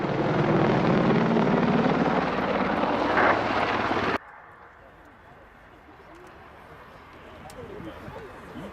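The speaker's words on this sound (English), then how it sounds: "This manoeuvres 10 tons of helicopter all the way through its pitch limits" Loud, steady Apache military helicopter rotor and engine roar during an aerobatic display fills the first four seconds, then cuts abruptly to a quieter, distant rumble with faint chatter.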